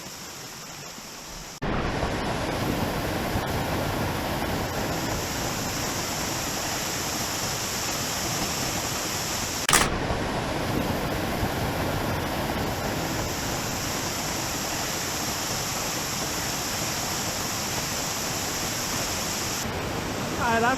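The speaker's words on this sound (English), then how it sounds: "So this is a view from the top of the waterfall." Fern Falls, a waterfall in the Arkansas Ozarks, gives off a constant close-up rushing roar of falling water that runs without pause, with a brief sharp knock partway through.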